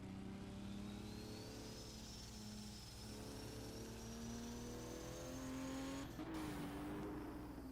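A 1978 race car engine exits the pit lane at Zandvoort, a continuous loud drone held from start to finish with a pitch that rises gradually and shifts briefly near the end.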